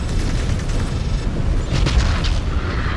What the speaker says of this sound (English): I love how the critical explosions look in this game.